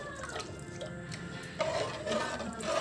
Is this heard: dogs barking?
no